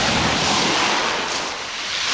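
Surf rolls onto a beach at Solnechnogorskoe in Crimea in a steady, loud, close wash of waves with wind buffeting the microphone and no voices.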